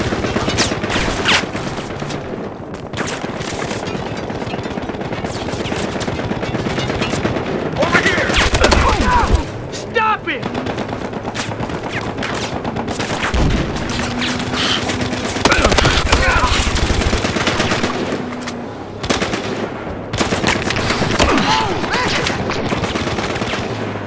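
Rapid bursts of automatic gunfire and single shots crack through a Battlefield Hardline stealth mission played on PS5, loud and close, nearly continuous across the scene, with game voices talking underneath at points.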